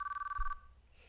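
Telephone ringing in Chaos;Child: a rapid trilling electronic ring bursts for about half a second, then cuts off abruptly, leaving a faint tail and quiet room tone.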